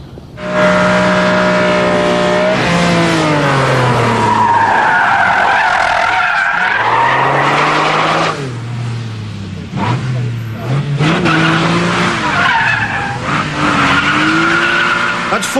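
A Ferrari test car skids on a track in Italy. Tyres squeal in long sliding wails as the engine revs and drops, loud and close, repeating across several slides.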